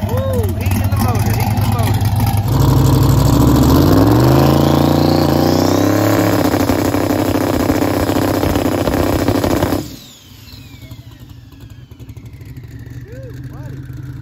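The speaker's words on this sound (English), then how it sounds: "Let me put some heat in the motor." A drag race car fitted with a Turbo400 lockup transmission roars loud and close, revving hard on the brake to heat the motor, the pitch climbing and holding before cutting off abruptly, then a lower idle as voices talk.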